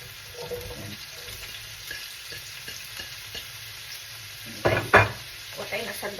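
Mixed vegetables fry in oil in a pan, with a soft steady sizzle under scraping stirs and a couple of louder clatters of a spatula near the end.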